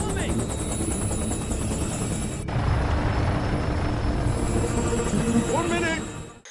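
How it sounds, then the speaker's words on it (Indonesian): A Little Bird helicopter's rotor roars close by in a steady, heavy throb as it lands, staying loud throughout, with a brief dip before it swells again. "Helikopter Little Bird satu persatu mulai mendarat di titik-titik lokasi"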